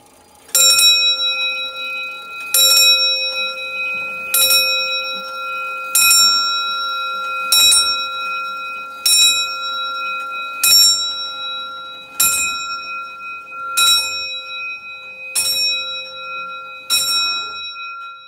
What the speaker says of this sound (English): Let's just take a listen to that bell.